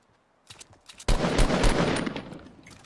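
Rapid automatic gunfire from Fortnite Battle Royale, a few scattered shots and then a loud, sustained burst of fire close by, with no talk over it.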